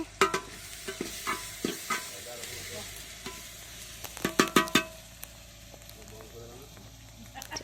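Onions frying and being stirred in a pan for Odia-style mutton and potato curry, with scattered scraping clicks of a spatula over a steady sizzle and some faint background noise.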